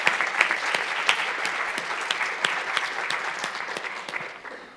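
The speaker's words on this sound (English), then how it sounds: "we give them a round of applause" An audience gives a steady round of applause at a university talk event, dense clapping with some sharper individual claps, slowly fading toward the end.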